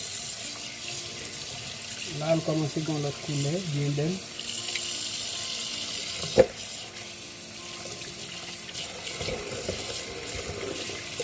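Kitchen tap water running steadily into a sink while chicken wings are rinsed, a continuous close splashing rush with a brief clunk partway, as a person speaks briefly over it.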